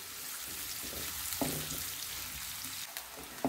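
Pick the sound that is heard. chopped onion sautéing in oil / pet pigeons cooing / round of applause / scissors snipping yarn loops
chopped onion sautéing in oil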